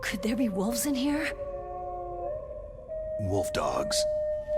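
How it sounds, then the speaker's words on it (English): Wolf dogs howl in the video game Metal Gear Solid: The Twin Snakes, a wavering, rising and falling howl under game dialogue with music, followed by more distant howls later. "Could there be wolves in here?"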